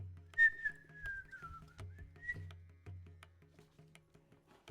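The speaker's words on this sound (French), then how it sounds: "se mit à siffloter" A boy whistles a wandering tune in soft, sliding notes over a quiet background of low rhythmic music, with brief pauses between phrases.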